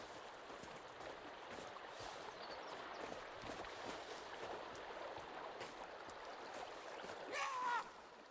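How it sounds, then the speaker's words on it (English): Water pouring down a waterfall in the Sons of the Forest video game, a faint, steady rushing wash that continues evenly, with one brief louder splash near the end. "just me just running up a waterfall"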